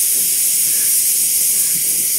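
A steady, loud hiss of steam rushing out continuously from a pressure cooker venting while cooking mutton gravy, with no breaks or other sounds.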